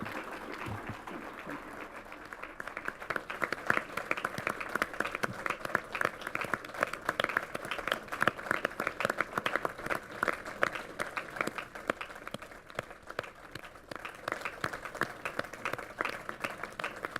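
Sustained audience applause follows the close of a speech at a summer school campaigning event, a dense, steady wash of many hands clapping that holds at a moderate level from start to finish with no voices over it.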